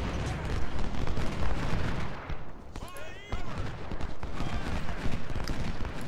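Musket fire in the Civil War strategy game Ultimate General: Civil War, a dense, continuous rolling crackle of many distant shots mixed with battle din, easing briefly before building again.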